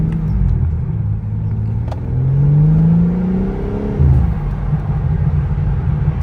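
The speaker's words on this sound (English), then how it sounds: "listen to the car. I know y'all hear them pops, man." A BMW M4 idles and revs at night with a deep, steady engine rumble and exhaust drone, rising in pitch in the middle as the engine climbs, then settling back, heard close up from inside without talk.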